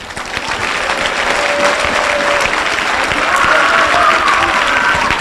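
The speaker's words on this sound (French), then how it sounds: "Acclamez Jésus" A church congregation applauds continuously during a deliverance service, a dense steady clapping that swells slightly and holds loud for the whole stretch.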